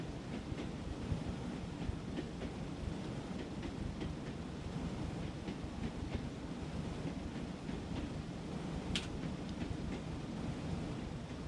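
A Class 101 diesel multiple unit runs on the Tees Valley Line in the train simulator Train Sim World, giving a steady low rumble of wheels and engine with faint rhythmic clicks and one brief sharp squeal.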